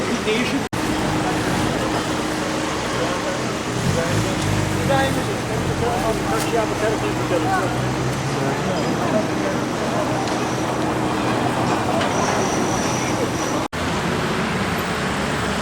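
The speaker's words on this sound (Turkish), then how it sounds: "Oldukça yoğun trafikli olan bir noktaya geldim." Busy city road with dense traffic passing nearby, a continuous wash of engine and tyre noise at high level, with someone talking over it.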